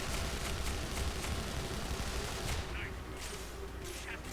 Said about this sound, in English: Get another look at the bullet hose in action.